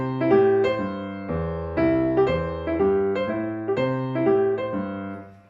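A solo piano plays a swing tune in a stiff, evenly dotted rhythm, with bouncing bass notes and chords moving in a steady, mechanical pulse, close and clear.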